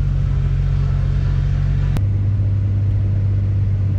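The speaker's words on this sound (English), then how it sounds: "I am going to launch in four-wheel drive." A turbocharged Chevrolet Trailblazer with a 4.2 engine launches in four-wheel drive on a track, its low engine rumble steady and loud, then shifting pitch abruptly midway as it pulls away.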